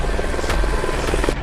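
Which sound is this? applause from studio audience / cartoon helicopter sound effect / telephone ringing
cartoon helicopter sound effect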